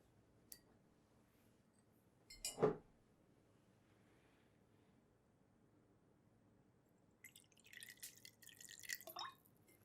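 Water dripping and trickling into a basin as clean water is drawn to wet barbershop face towels, with a few faint isolated drips, one louder splash near the middle and a brief run of water near the end in a quiet room.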